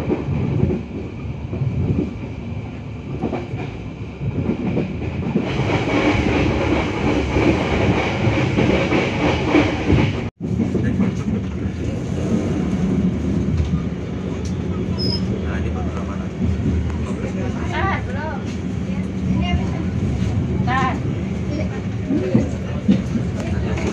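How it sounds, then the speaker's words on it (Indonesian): The KA Bengawan passenger train pulls out of Wates station in Yogyakarta with a steady, loud rumble and rail clatter heard from on board, and a brief sharp knock midway. "KA Bengawan kembali diberangkatkan dari Stasiun Wates, Yogyakarta jam 13:54"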